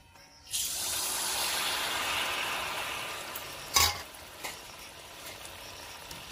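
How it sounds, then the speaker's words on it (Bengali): Malpua batter sizzling in hot oil, a steady broadband frying hiss that starts abruptly and holds throughout, with a couple of brief clinks of a utensil partway through. "সব মালপোয়াগুলো আমি একই রকম ভাবে ভেজে নেব।"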